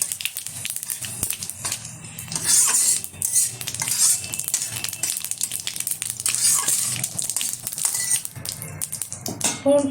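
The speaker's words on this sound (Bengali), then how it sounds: "এখন এই তেলেই দিয়ে দেবো একটা তেজপাতা মাঝখান থেকে ছিঁড়ে, দিয়ে দিচ্ছি কিছুটা গোটা জিরে ফোড়নে, ভালোভাবে ভেজে নেব।" A torn bay leaf and whole cumin seeds fry in hot oil for a fish curry, a dense crackling sizzle with utensil clinks and stirring, close and steady throughout, no speech.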